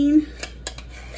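Hormel no-bean chili from a 15-ounce can lands in a cooking pot, heard as a few soft clanks and clicks of metal against cookware, each one short and separated by quiet, with no talk.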